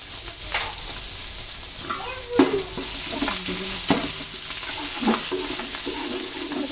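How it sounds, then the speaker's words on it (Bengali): Chopped onions fry in a pan with garlic paste for duck biryani, a steady broad sizzle with a few louder stirring scrapes and clinks, close up and without talk. "পেঁয়াজগুলো ভালো করে ভেজে নেব"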